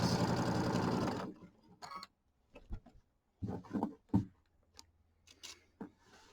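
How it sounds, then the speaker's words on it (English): A sewing machine stitching fabric runs in one steady, continuous burst for just over a second, then stops, leaving only quiet handling noises and small clicks. "So we'll have to do some pressing again here in a minute."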